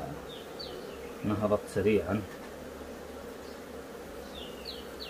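Honeybees hum around an open beehive with frames of brood and pollen, a steady close buzz running throughout while someone speaks briefly in the middle.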